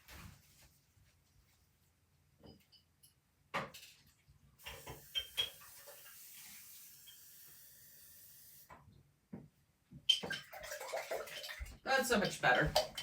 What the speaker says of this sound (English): That's the way you clean a brush.